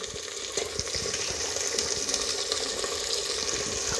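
Mutton sizzles steadily in a hot pan while being browned for achari mutton, a dense close crackle with light scraping from stirring and no voices.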